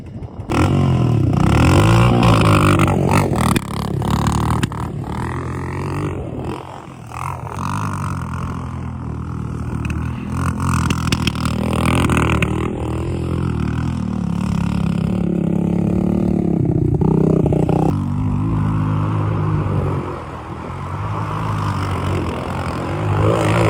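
Honda Fourtrax engine on a homemade go kart out for a spin, a loud, rough, continuous motor drone that rises and falls in pitch with throttle changes, heard close with rattling clatter over the whole run.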